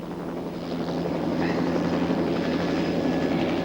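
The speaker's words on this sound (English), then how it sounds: "the chopper takes off to retrieve a man who has pulled the pin" A military helicopter lifts off, its steady rotor and engine drone holding loud and close throughout with a low hum underneath.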